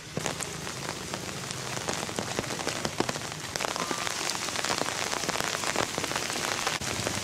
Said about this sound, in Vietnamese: hiện tại trời đang mưa khá to